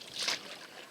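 An oar pulls through the water of a rowboat, giving one soft swishing splash and a trailing watery wash, close and fairly quiet, with no talking.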